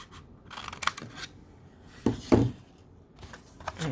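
Scissors cut squares of paper from a crafted treat holder bag, giving a few close, crisp snips with soft paper rustling in the quiet gaps between them.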